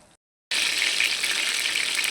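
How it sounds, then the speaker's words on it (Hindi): Chicken potato kebabs frying in a pan give a steady, loud, bright sizzle that starts abruptly after a brief moment of silence and carries on evenly with no talk. "ये देखिए पूरे मैंने 8 मिनट इसको फ्राई किया।"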